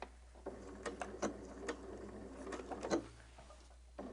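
Sewing machine backstitching a few stitches on a quilt border for a Double Wedding Ring quilt, giving quiet, close mechanical ticks and a short rattling run with no talk.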